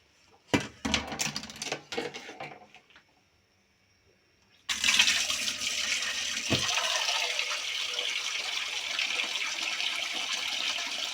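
Boiled water poured into a pot of omena (small dried fish) for rinsing, in a home kitchen: after a few brief clinks and knocks and a short pause, a steady, fairly loud rushing pour runs on without a break.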